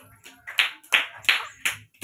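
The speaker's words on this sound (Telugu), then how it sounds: "ఓకే, క్లాప్స్ కొట్టండి" Young children at an anganwadi clap together in short bursts, about five distinct rounds of claps in quick succession, close and lively in a classroom.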